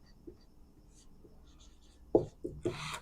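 A pen writes out a physics solution on paper, faint scratchy strokes at first, then a few louder, sharper scribbles near the end.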